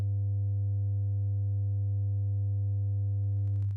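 A steady low sine tone hums with added upper harmonics giving it a slightly saturated buzz, held for several seconds before cutting off.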